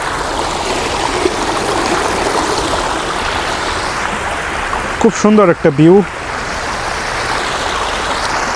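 An artificial waterfall in Qatar makes a steady, broad rush of flowing water close by, and a person speaks briefly over it.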